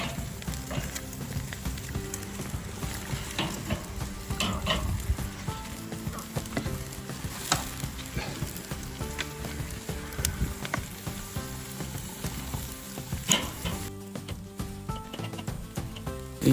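South African boerewors sausage sizzles on a grill in London, a continuous crackling fry with scattered pops and small clicks throughout, moderately close and without talk.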